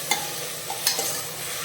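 Tomatoes and green chilies stirred in a frying pan for a beef curry, a few soft scrapes and clicks of the spoon over a steady low sizzle, no talking.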